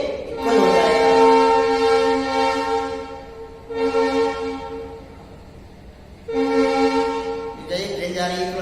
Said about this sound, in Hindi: ट्रेन जा रही है थोड़ा सा